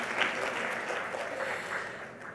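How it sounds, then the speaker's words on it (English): Applause at a healthcare conference, a steady patter of many hands clapping at moderate volume for a couple of seconds. "Yes, that's a clap."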